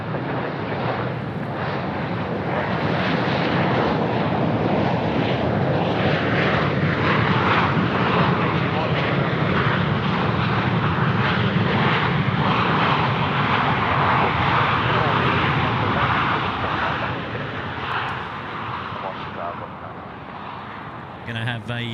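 A passenger jet at Sydney Airport heading out on an international service, its engines roaring loud and steady through most of the stretch, swelling then easing slightly toward the end, with a radio-style voice talking over it.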